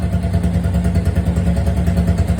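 A modified motorcycle fitted with a new exhaust is cold-starting and running, giving a loud, close, steady engine rumble with a rough, pulsing clatter throughout.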